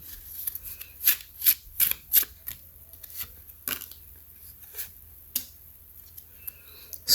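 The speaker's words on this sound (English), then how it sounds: "Let's see if we can get a few more cards from this deck." A deck of cards is shuffled in a quiet room: several brisk, crisp riffling bursts come close together early on, then fewer scattered flicks and rustles follow.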